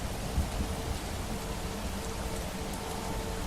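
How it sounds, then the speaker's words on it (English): Heavy rain during a thunderstorm in the Skyrim Special Edition video game, a dense, steady hiss of downpour with no talk and no distinct thunder crack. "the sound effects of heavy rain and the lightning and all that"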